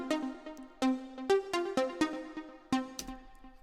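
Short, bright plucked synth-piano notes in Logic Pro X in a sparse melodic pattern, each with a quick attack and fast decay, quiet and close.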